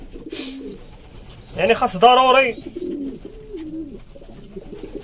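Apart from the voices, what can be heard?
homing pigeons cooing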